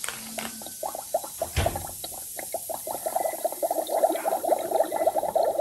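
A Magic Mixies toy cauldron bubbles after a liquid is poured in, giving a steady run of close, gurgling pops and burbles that keep going for several seconds with no talking.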